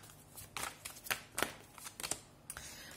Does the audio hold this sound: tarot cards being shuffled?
yes